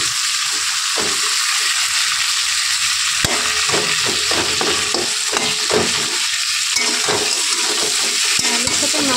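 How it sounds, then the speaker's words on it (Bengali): Fish head frying with potatoes in a pan, a steady close sizzle with repeated scraping stirs and clinks of a utensil breaking the head apart. "মাছের মাথাটা ভালো করে ভেঙে নেব, এটা একটু ভাজা ভাজাটা ভালো হয়।"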